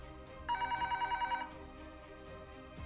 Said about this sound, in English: the phone in the apartment rings